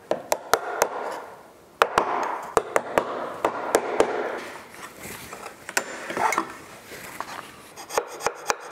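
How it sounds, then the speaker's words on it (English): A chisel cleans out a hinge mortise in a white oak door, a series of sharp close taps and scraping rasps repeated irregularly, with quiet rubbing between strikes. "So I'll hit those with the chisel"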